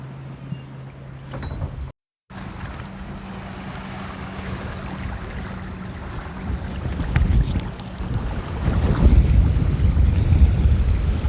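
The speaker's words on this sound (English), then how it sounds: "The wind's dancing between 8 knots and 22 knots, so it's a bit gusty coming down the valleys" Gusty wind buffeting a sailboat on flat water off Martinique, between Fort de France and St Pierre, with steady roaring wind noise, a momentary dropout, then stronger gusts and water rushing past the hull.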